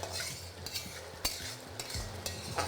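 Spice paste with turmeric and Kashmiri chili powder fries in oil for a potato curry, a soft sizzle under repeated spatula scrapes and light clinks against the pan, close and fairly quiet.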